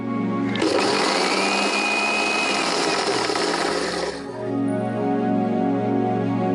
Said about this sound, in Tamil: தேங்காய் பூ அதுலயே போட்டு அரைச்சிடலாமா?